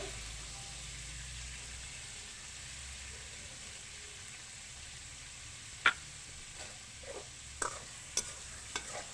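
Half a kilo of chicken frying with garlic paste in a pan, a low steady sizzle with a few sharp utensil knocks and scrapes near the end, no voices.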